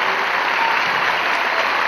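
Concert audience applauding, a dense wash of clapping heard steadily and at even loudness over a brief stretch, with no voices standing out.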